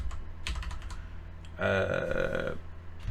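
Rapid run of computer keyboard key presses, clicking close and dry in a quick clustered burst, with a few scattered taps before it, while playing a Minecraft modpack and creating spells with Ars Nouveau.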